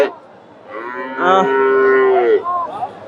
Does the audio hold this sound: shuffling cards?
no